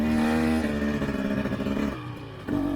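Dirt bike on a spring trail, a 2023 KTM 300 XC or 2023 CRF110F, revs in a buzzing engine note that shifts pitch unevenly, dips near the end, then surges back up, close and fairly loud.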